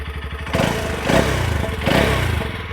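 A TVS Apache RTX 300 motorcycle engine fires up and settles into a throbbing idle, with a loud, steady mechanical rumble and two brief swells in revs, heard close with no talking.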